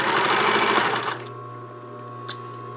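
A sewing machine stitches along a blouse collar edge, running loudly and steadily for about a second before stopping, leaving a low hum and a faint brief click.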